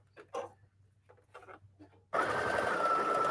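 Faint scattered sounds give way to a sewing machine starting abruptly and running at a fast steady whir, close and loud, stitching patchwork from scraps and old blue jeans.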